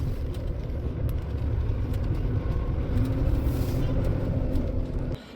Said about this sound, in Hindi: कारों का भी आज बहुत रश है